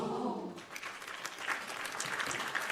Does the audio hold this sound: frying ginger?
no